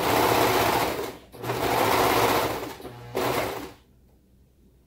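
A serger runs in two quick bursts of steady whirring stitching through fabric while sewing toddler bell-bottom pants, pausing briefly between runs before falling quiet.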